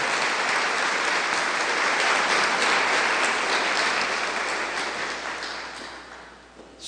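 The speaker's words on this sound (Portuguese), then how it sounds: "Palmas para Jesus" A church congregation at a Sunday service applauds in a dense, loud burst of clapping that holds steady for several seconds and then tapers off toward the end.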